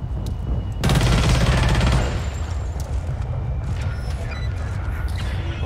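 SMG fire in the first-person shooter Blacklight: Tango Down: one loud, close burst of rapid shots lasting about a second, then quieter distant gunfire and game ambience.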